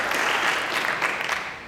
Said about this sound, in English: Give a round of applause to Nikki.